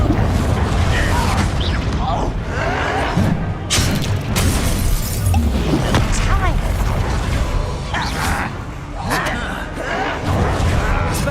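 Confringo fire spell blasts in Hogwarts Legacy, loud dense booms and crackling bursts repeating through the fight, mixed with game effects and a voice.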